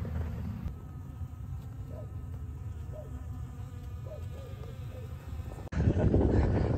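Bees buzz steadily at close range, their droning hum continuous with faint rises and falls, cut off by a sudden burst of louder rumbling noise.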